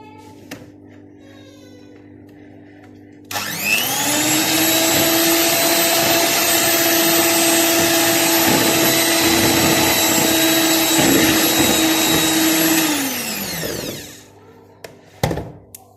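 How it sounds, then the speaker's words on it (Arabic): An electric hand mixer whirs steadily at high speed for about ten seconds, beating butter and sugar in a bowl for Egyptian palace bread, starting abruptly and winding down at the end, loud and alone with no talk. "هنزل عليهم طبعا بالمضرب بتاعي"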